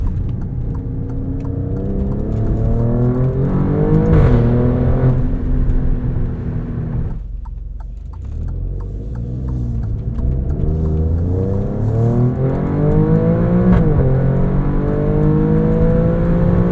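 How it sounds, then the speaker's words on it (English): The V6 of a 2022 Alfa Romeo Stelvio Quadrifoglio pulls hard through rising revs in dynamic mode, with a quick gearshift from the 8-speed ZF cutting the drone midway before it climbs again, loud and close from the cabin. "Listen to this V6."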